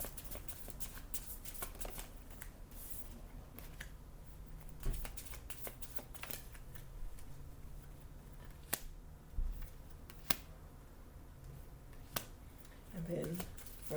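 Vintage wisdom oracle cards are shuffled and pulled, giving soft riffling, several sharp snaps and flicks scattered throughout, with a voice speaking intermittently around them.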